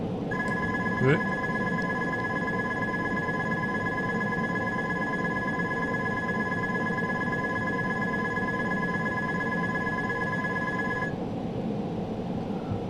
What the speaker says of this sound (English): Some alarm bells ringing.